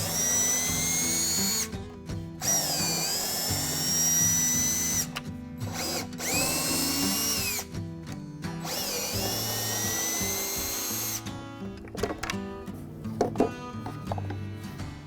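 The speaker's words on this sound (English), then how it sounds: "we're going to use a T30 Torx bit to back those out" A power drill fitted with a T30 Torx bit backs screws out of a 2021-2022 Ford Bronco tailgate, whining in long sustained bursts that rise and fall in pitch, broken by short pauses, loud and close with no voices.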